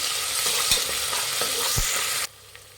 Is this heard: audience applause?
no